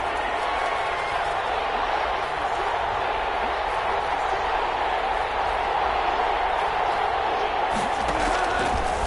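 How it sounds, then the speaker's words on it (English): A stadium crowd in an American football video game on PS4 roars and cheers in a steady, dense wash of noise that swells slightly toward the end and runs for the whole stretch. "the crowd getting into it as we come up on a big 3rd down"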